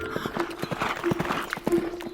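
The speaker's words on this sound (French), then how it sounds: "C'est le cheval blanc qui galope face au vent." Horse hooves galloping in a steady repeating clip-clop rhythm, moderately loud, under a sustained musical tone with a children's song feel.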